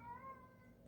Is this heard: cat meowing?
yes